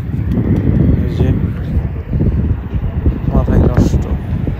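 Wind roars and buffets steadily against the microphone during a night scooter ride on city streets, a loud rumbling gust noise that runs continuously throughout.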